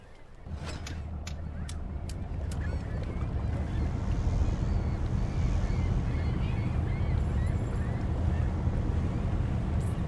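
Boat engine running under throttle in the fishing game Fishing: North Atlantic, a steady low rumble with wind-like hiss that holds for the whole stretch, a few brief higher tones near the start.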